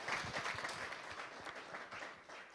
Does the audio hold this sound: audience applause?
yes